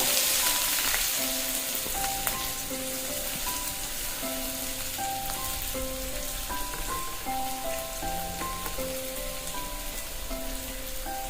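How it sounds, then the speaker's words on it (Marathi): Sliced onion sizzles and crackles in hot oil in a kadhai, a loud, dense frying hiss that runs steadily throughout with no voices. "आता त्याच कढईमध्ये आपण एक कांदा टाकून घेऊ उभा चिरलेला"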